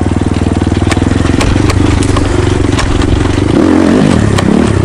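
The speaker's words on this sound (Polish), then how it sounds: "Fajny motor." A Kayo T4 motorcycle engine runs steadily up close, loud and continuous, with a few sharp revs lifting the pitch toward the end.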